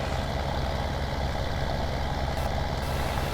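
Tractor in Farming Simulator 17 straining while turning around with barely enough power, giving a loud, steady low engine drone with constant rumble throughout and no voices.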